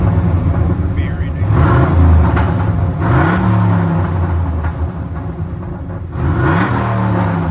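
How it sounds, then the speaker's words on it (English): A 1995 Chevy Impala SS with an LS-swapped V8 revs in repeated swells, a close, loud, rumbling engine note with audible cam lope rising and falling over several seconds, with someone talking over it. "Nice little V8 rumble. You can hear the cam"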